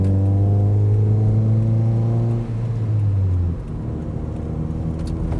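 Car engine pulling hard while overtaking on a long-distance road trip, a loud, close, droning hum whose low tones hold steady and then ease off partway through, with road noise beneath.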